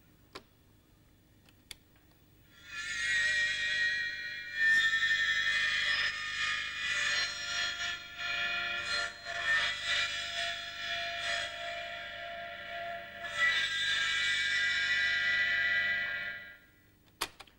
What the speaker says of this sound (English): We record at one speed and we play it back at a faster speed.